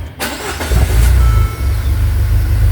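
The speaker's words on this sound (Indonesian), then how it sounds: "suara mesin juga beda teman-teman, dan RPM-nya juga lebih stabil ya, lebih stabil di 900" Peugeot 807 with a rough-running engine, freshly fitted with new injectors, cranks briefly and fires up, settling into a loud, steady, low idle right by the microphone with no one talking.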